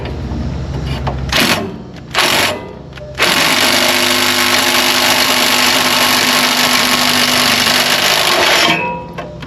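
Impact wrench hammering on a stuck battery bolt in a Freightliner Cascadia truck, a few short bursts followed by a long, loud, continuous rattling run of about six seconds that then stops.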